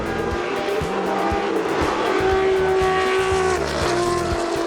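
A Matra racing car's V12 engine roars loudly and steadily at Le Mans Classic 2014, its high revving whine holding near and constant, with brief tire squeal.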